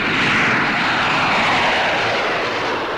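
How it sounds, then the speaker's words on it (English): P-80 Shooting Star jet fighters taxi in line for takeoff at an airfield, a steady loud engine roar and whine that holds evenly throughout, with no voices. "In line for formation maneuvers, America's fastest planes taxi for the takeoff"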